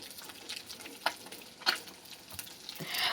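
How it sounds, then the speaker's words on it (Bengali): Fish frying in a pan in a home kitchen, a soft steady sizzle with faint crackles and a few stirring scrapes, close and quiet, no voices. "এখানে মাছটাও ভাজা হচ্ছে"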